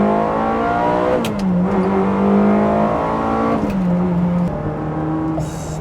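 A manual Ferrari 360 engine revs hard under acceleration, its loud wailing note climbing through the gears with brief drops at the shifts, heard up close with no talking.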